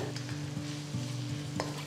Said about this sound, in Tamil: வெங்காயத்தை நல்ல ஒரு கோல்டன் ப்ரௌன் கலர் வர வரைக்கும் வதக்குங்க